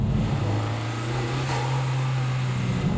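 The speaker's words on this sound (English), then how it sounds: "You can hear a little blow-off valve under the bonnet there as well." A 2023 Honda Civic Type R's turbocharged engine holds a steady, loud rev with a low droning tone across the whole stretch, and a faint hiss of the blow-off valve from under the bonnet near the middle.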